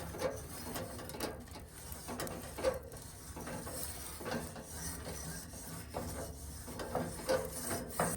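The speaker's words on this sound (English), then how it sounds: "After about 5 minutes, I give a little scrape to the grates," A grill brush rasps back and forth across hot metal grill grates on a Santa Maria grill, a faint, rhythmic scratchy scraping repeated in short strokes over a low background rumble.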